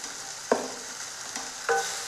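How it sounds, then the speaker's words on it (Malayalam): Cut bitter gourd fries in a pan with a soft, steady sizzle, broken by two sharp clatters of a spoon as it is tossed and stirred. "ഇനി നമ്മൾക്ക് അതിലേക്ക് മുറിച്ച് വെച്ച കൈപ്പക്ക ഇട്ട് കൊടുക്കാം."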